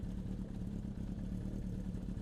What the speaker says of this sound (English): I love the exhaust. It sounds amazing.